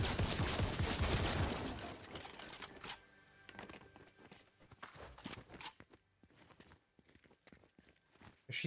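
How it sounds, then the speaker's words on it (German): Gunfire in a Fortnite no-build match: a dense, loud burst of rapid shots for about three seconds, then scattered fainter shots and clatter continuing in the background, with no talking. "Wer schießt denn?"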